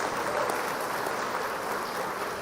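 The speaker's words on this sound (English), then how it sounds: "big round of applause for Anna, because this is a Chamber of Commerce meeting" An audience at a Chamber of Commerce debate applauds, producing a dense, steady wash of clapping that holds evenly throughout with no talk over it.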